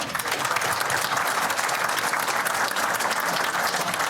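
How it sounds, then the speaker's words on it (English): Dense, sustained applause from a large crowd at the 2022 NZB Standardbred Harness Racing Awards, a loud, steady wash of clapping filling the whole stretch without speech. "But just a round of applause for the rest of the boys too, please."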